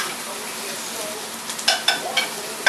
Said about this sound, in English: My onions are still cooking.